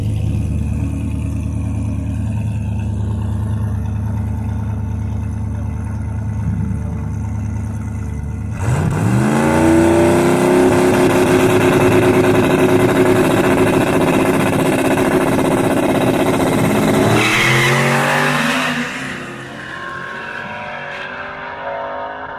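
Race cars make passes down a drag strip, an engine idling and then loud hard acceleration around the halfway point with rising revs and a brief tire squeal, receding toward the end.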